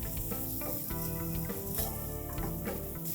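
Capsicum, turmeric and garam masala sauté for pav bhaji, giving a steady, close sizzle and frying hiss with brief stirring scrapes and clinks throughout, with no talking.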